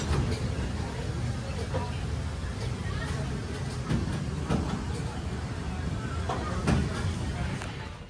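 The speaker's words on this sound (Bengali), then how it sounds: "আমাদের ট্রেন ব্যান্ডেল ঢুকছে" An express train runs on the rails on the approach to Bandel, giving a loud, continuous rumble with a steady rhythmic clatter of wheels from inside the carriage and faint background chatter.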